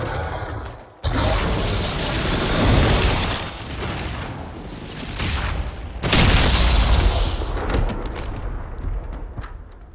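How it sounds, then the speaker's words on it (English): A big explosion in the video game Dragon Age: Inquisition gives a loud, sustained roar of blast and debris that swells twice, with crackling and rumbling that then fade out. "Big explosion."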